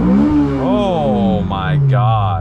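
Honda S2000 engine with a Greddy exhaust revving hard, a close, loud rising and falling engine note with sharp climbs in pitch, while someone speaks over it.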